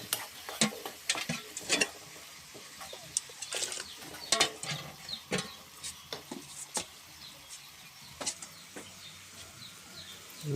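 Tomatoes are stirred with a little hot water in a pan while cooking Maggi noodles, making faint, close, irregular scraping and clinking strokes over a soft sizzle.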